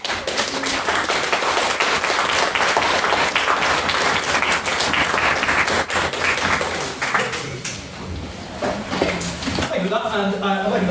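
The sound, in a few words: audience applause after a debate speech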